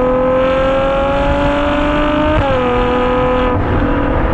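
A powerful high-revving Ferrari F12 6.3-litre V12 engine roars steadily up close, its pitch dipping briefly midway before climbing again.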